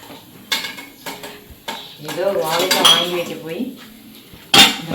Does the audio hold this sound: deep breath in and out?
no